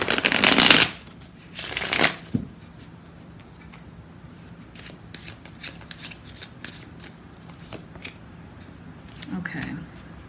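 A deck of tarot cards is shuffled up close, with two short loud riffling bursts followed by softer scattered taps and card handling.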